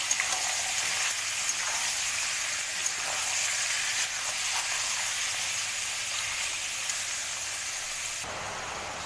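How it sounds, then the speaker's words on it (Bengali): Chicken pieces frying in hot oil, browning before spices go in for a chicken curry, a steady loud sizzle and hiss running throughout with no pause, dropping slightly near the end. "এটা দিয়ে আমি ভালো করে একটু লাল লাল করে ভাজবো চিকেনটাকে"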